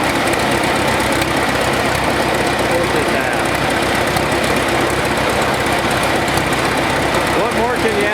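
An antique model 1530 tractor engine runs at a show, a loud, steady, rough mechanical chugging with knocking vibration throughout, while people talk over it.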